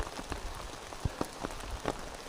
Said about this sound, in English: gonna continue to press on here in the rain